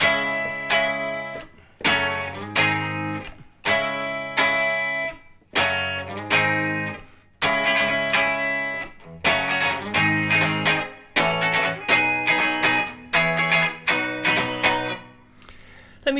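Electric guitar through a 1964 Vox AC30 amplifier plays the intro to a song: repeated strummed chord stabs in a steady rhythm, each ringing briefly before the next, loud and alone.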